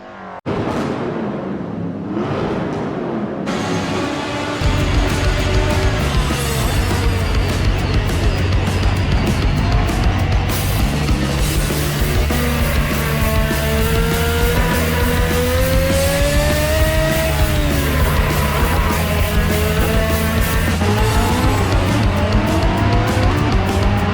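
A BMW M3 E30 Group A race car laps Silverstone in the Assetto Corsa sim, its engine loud and close throughout, revs climbing and dropping through gear changes and corners with occasional tire squeal, after a brief quieter start.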